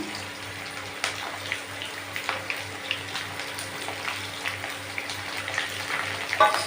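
Chopped onions sizzle steadily in hot oil with green chillies and curry leaves for rava upma, a constant frying hiss with small crackles throughout and a low hum beneath.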